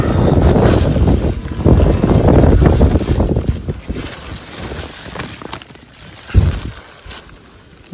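Strong wind gusts roar at night around a house amid trees during heavy rain, loud and buffeting at first, then easing into a lower rush with one sharp gust near the end.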